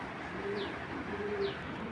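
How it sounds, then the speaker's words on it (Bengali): Large, healthy club pigeons cooing softly, two low cooing phrases about a second apart over faint room noise. "অনেক বিগ সাইজ, অনেক বড় সাইজের কবুতর এগুলো।"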